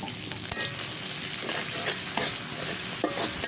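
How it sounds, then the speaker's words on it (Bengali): Red amaranth greens fry with garlic and green chili, a loud, close sizzle with the scrape and knock of a stirring spatula at an uneven rhythm, and no talking. "এবার রসুন আর মরিচ দিয়ে শাক ভাজি।"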